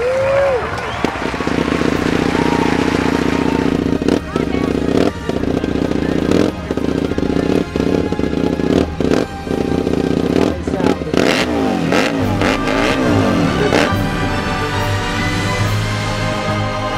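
An Indian Scout FTR750 AMA Pro flat track race bike revs loudly and close by at Sturgis, its engine rising and crackling in repeated bursts while a crowd and voices sound underneath.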